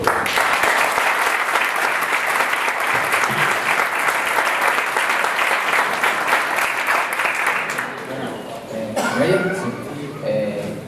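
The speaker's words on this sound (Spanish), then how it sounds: "Vamos a dar un aplauso y así empieza." An audience claps steadily for a speaker at a talk, sustained dense applause that fades out near the end as a voice starts talking.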